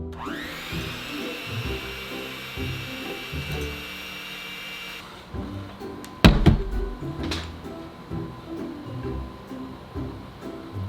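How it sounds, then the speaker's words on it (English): Chocolate quiche batter with cocoa powder and chocolate chips whirs in an electric mixer for a few seconds, a steady motor drone that cuts off midway, followed by a loud clatter and a few knocks as the bowl is handled. "Now we mix for 15 to 20 seconds."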